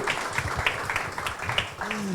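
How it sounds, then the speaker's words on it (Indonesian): Scattered applause at a press conference for Mas Ali and Mas Fadel, light clapping rising under a host speaking over a microphone, moderately distant. "Oke, tepuk tangan buat Mas Ali dan Mas Fadel."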